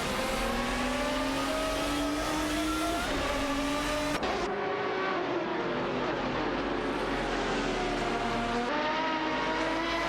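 Aston Martin DBR9 and Lister Storm GT race cars in a racing video game, engines droning loud and steady with rising and falling harmonic pitches through gear changes, an abrupt cut midway, no voices.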